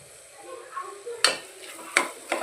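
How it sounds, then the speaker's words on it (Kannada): Masala sizzling in oil in a pan for palak rice, a soft steady fry with a few sharp scraping stirs toward the end, close and quiet. "ಇದು ಚೆನ್ನಾಗಿ ಫ್ರೈ ಆಗೈತೆ ನೋಡಿರಿ."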